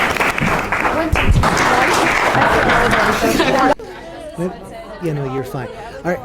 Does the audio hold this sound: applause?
yes